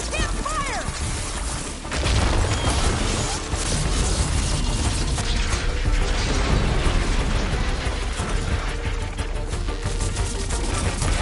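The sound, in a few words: robot machine creature moving in video game Horizon Forbidden West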